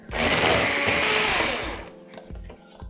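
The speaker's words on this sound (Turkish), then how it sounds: "Çırpıcımla çırpacağım. 3-4 dakika boyunca güzelce çırpacağım." An electric hand mixer on a high setting whips pudding, whirring loudly and steadily for about two seconds, then winds down, leaving a few softer clatters of beaters against the bowl.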